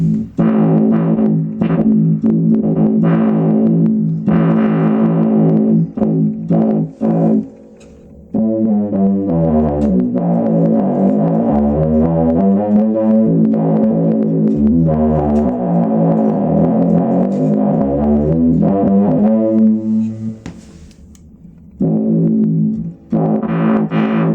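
Loud synth bass lines from a cheap bass guitar cycle through several Zoom B2 factory effect presets, with buzzy, filtered and wobbling tones played in phrases separated by short pauses.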